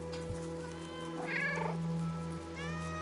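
Cats in the video game Stray meow in a close, drawn-out series over a low steady background hum, with one louder, wavering call in the middle.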